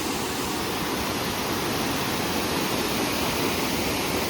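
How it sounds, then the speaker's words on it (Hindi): Fast-flowing mountain waterfall near Nainital in the rainy season, swollen with water, roars as a dense, unbroken hiss close by, constant and loud from start to finish. "बहुत ज़्यादा तेज़ है, बहुत तेज़ है वाटरफॉल।"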